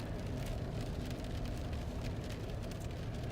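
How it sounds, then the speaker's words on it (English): Steady rain falls over downtown Hershey, Pennsylvania, along Chocolate Avenue, a constant broadband hiss with a low road-traffic rumble mixed in, even and unbroken throughout. "Yes, it is raining."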